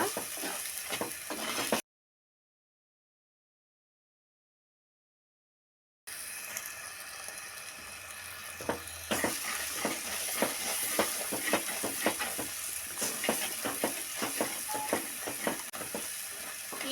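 Onions with chilli powder, turmeric and salt frying in a pan, a steady close sizzle with repeated scraping stir strokes, cut by a stretch of silence before the frying resumes.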